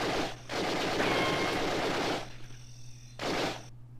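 Gunshot sound effects dubbed onto film footage, two loud bursts of rapid gunfire, the first long and sustained and the second short, separated by a quieter gap, with no talking.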